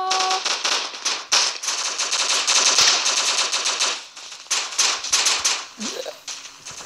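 Rapid bursts of video game gunfire, including a sniper rifle, crack loud and close in quick succession with brief gaps, ending with a short rising electronic tone.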